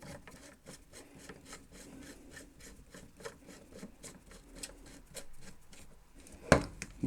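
A threaded 1-inch angle fitting being screwed on by hand for a garden hedge irrigation system: soft, repeated rubbing and ticking of plastic threads turning, quiet and close, with a sharper knock near the end.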